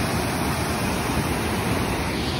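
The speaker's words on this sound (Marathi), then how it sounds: "आणि माझ्या मागे बघताय वॉटरफॉलच आहे" A small waterfall near a dam at Kamthe, Chiplun, rushes with strong force, producing a dense, steady roar of water that fills the whole stretch without any talk.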